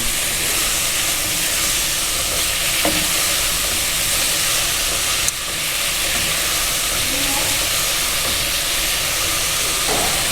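Chicken with salt, chili and brown sugar cooks in a pan, producing a dense, unbroken hissing sizzle that holds steady and loud throughout, with faint clicks and no talking.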